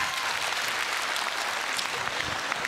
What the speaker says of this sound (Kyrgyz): Маанайыңыздар жакшы болсо бизге деле бир кол чаап койсоңуздар.